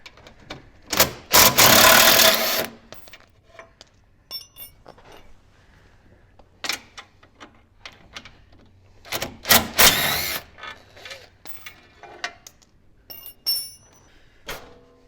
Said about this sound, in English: Go ahead and remove the bumper by taking out 4 15 millimeter bolts.